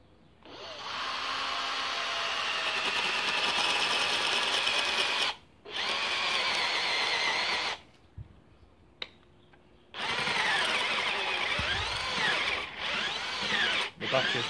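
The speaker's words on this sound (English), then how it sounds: "So we'll get it drilled first and then we'll start fitting." A cordless power drill bores into a log for a log reindeer, whining loudly in several long bursts of a few seconds each, pausing between runs with small knocks and clicks, close up and with no talk.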